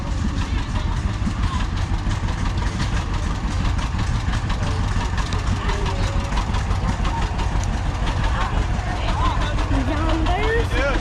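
A 1750 farm tractor at a threshermen's reunion runs with a steady, loud engine drone throughout, close by and continuous, with faint voices in the background.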